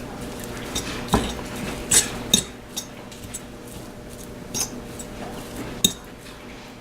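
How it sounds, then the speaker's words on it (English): A spoon scrapes and clinks against a bowl while empanada filling is stirred with ground cumin, giving scattered sharp knocks and taps over a quiet kitchen background, no talking. "So 1/2 tablespoon of ground cumin. Now mix that together again"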